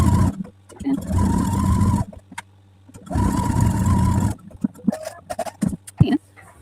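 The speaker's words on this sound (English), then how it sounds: "And then we're going to sew across the seam here." A Husqvarna Viking sewing machine stitches across a quilt seam in two steady running bursts with a brief pause between, its motor whirring loudly and close, followed by handling clicks and light movement.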